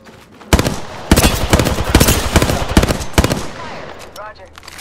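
Knuckle cluster launched in Apex Legends, a loud burst of rapid popping blasts in quick irregular succession that fades into quieter crackle and whooshing tails.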